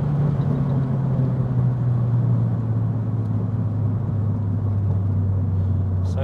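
A turbocharged Abarth 500 with a big turbo kit pulls hard under boost toward the red line, its engine a steady, loud in-cabin drone with road rumble throughout.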